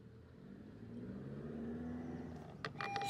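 A stolen car's engine runs faintly after starting, a low steady rumble that swells slightly as it pulls away, with brief clicks and rattles near the end.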